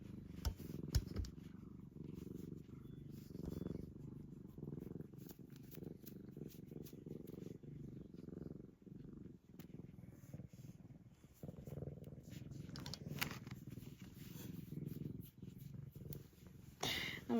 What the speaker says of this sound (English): She's just purring away.